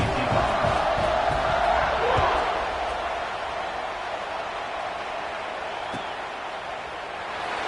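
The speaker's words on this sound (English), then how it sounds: "this crowd is buzzing after that last score" Football stadium crowd at an NCAA game against Maryland, a broad steady roar and buzz of thousands of fans with some shouts, continuous and fairly loud throughout.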